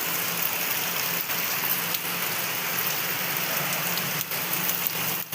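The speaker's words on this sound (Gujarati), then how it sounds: "કેવો વરસાદ આવ્યો" Steady rain pours down in a constant, dense hiss, with a faint low engine-like hum underneath and no talking.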